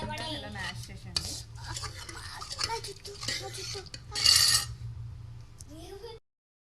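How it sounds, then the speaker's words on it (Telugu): Cooked lentils (chana dal) being mashed in a pot, giving soft repeated scraping and clinking of a utensil against metal, with one louder rattling burst near the end. Someone talks over it. "ఇప్పుడైతే పప్పు మ్యాష్ చేసేద్దాం"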